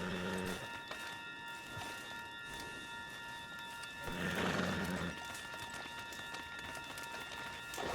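A horse in the Western video game Red Dead Redemption 2 gives a loud neigh midway while hooves clop in a steady running rhythm, with rain-like ambience and game music underneath.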